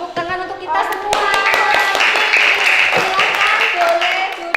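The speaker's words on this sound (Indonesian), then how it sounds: "Tepuk tangan untuk kita semua." Schoolchildren in an elementary classroom clap their hands together, a dense, lively burst of close clapping mixed with excited children's voices throughout.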